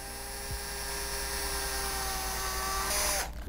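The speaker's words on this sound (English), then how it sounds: "I'm going to drill through my elevons" Electric drill steadily whining as it bores through a foam flying-wing elevon during an RC aircraft build, a close continuous motor tone that holds for about three seconds before winding down.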